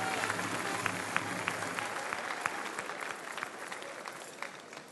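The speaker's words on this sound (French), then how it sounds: "Monsieur le maire, on vous applaudit." Audience applause for the mayor of Lyon at the Bocuse d'Or 2013 awards ceremony, moderately faint and steady with occasional sharper claps, gradually thinning toward the end.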